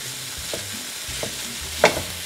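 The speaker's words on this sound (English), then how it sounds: "it's time to add our ground beef to the pan" Grass-fed ground beef frying with onions in a pan, a soft continuous sizzle broken by a couple of spatula scrapes and one sharper clack near the end.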